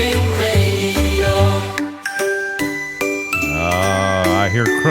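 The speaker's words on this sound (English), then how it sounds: "I hear the jingle bells there." A Christmas-themed radio jingle of bright, tinkling bells and chimes rings steadily over musical tones, loud and continuous throughout with no speech over it.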